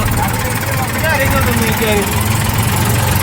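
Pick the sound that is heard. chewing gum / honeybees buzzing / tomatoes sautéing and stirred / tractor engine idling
tractor engine idling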